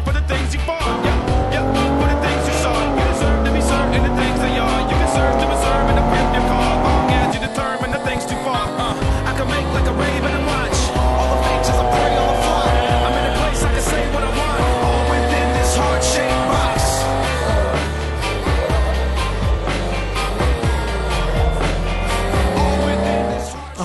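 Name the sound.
Nissan 370Z and 300ZX sports cars racing side by side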